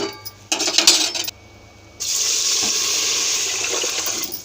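Moong dal and rice are washed with water: a short clatter of grains, a pause, then a steady rushing pour of water, loud and close, with no voices.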